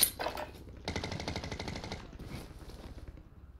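Rapid automatic gunfire in Call of Duty Warzone, a dense burst of shots followed by a longer sustained string of rounds fading toward the end, heard without talk.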